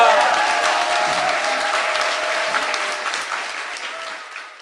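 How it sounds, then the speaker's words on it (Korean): A crowd at a Korean political event, where a National Assembly member is speaking, breaks into sustained, dense applause that stays steady and then slowly fades toward the end. "박수 부탁드립니다"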